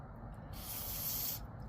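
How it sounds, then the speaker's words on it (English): Carburetor cleaner sprays from an aerosol can onto the carburetor of a Stihl 028 AV chainsaw, a single sharp hiss lasting just under a second, close and fairly loud against quiet surroundings. "So the spray from this carb clean definitely will get you."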